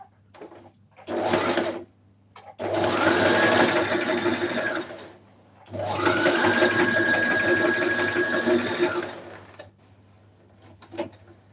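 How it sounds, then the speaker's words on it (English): A sewing machine runs a zigzag stitch along a blouse seam in two long, steady bursts, with a brief short run at the start and a quiet gap between. It sounds close and loud, with no voices. "let me put my zigzag stitch"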